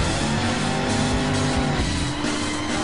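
Powerful cars race in a loud, dense engine roar with tire squeal, continuous and close for the whole stretch.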